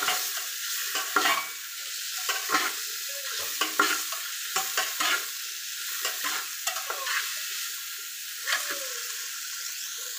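Tomatoes fry in a pan for biryani masala, with a steady close sizzle and repeated scrapes and taps of a spatula stirring them throughout.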